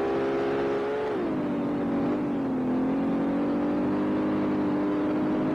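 Audi S4 engine in a racing video game, with a sustained drone that dips in pitch and then holds steady over a few seconds while revving continuously, loud and close throughout, with no talking.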